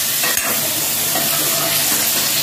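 Chicken frying in plenty of hot oil, a loud, dense and continuous close-up sizzle with a brief scrape of stirring near the start, no voices.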